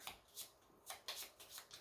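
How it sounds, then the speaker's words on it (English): A deck of game cards for the board game Castles By The Sea is shuffled close by, making faint, repeated riffling bursts in an uneven rhythm over a quiet background. "take this whole deck here and shuffle it back together"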